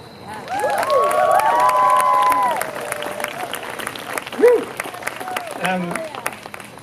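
An event audience at a 2021 climate festival applauds and whoops, loud clapping with rising cheers and shouts for several seconds before thinning into scattered claps and voices.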